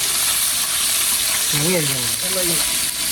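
Hot oil frying ingredients for a chicken biryani, a steady broadband sizzle that runs the whole time, while voices talk briefly in the middle.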